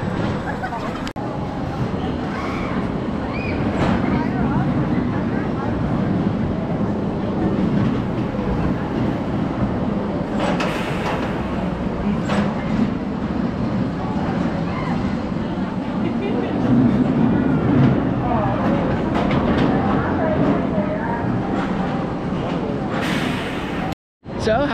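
Wild Mouse roller coaster ride: continuous rattling and rumbling of the car on the track with clattering wheel noise and rushing wind throughout, loud and close, with riders' voices mixed in.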